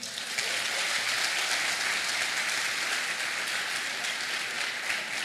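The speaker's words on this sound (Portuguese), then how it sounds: "Você pode aplaudir o Senhor aí?" A church congregation applauds together, a steady, dense wash of clapping that holds evenly throughout at moderate distance, with no talking over it.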